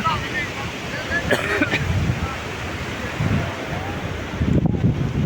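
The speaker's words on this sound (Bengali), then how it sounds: "আর এই যে ঢেউ, ঢেউয়ের গর্জন" Ocean waves crash and roar onto Sabrang beach at Teknaf nearby, with wind buffeting the microphone and a voice talking over the surf.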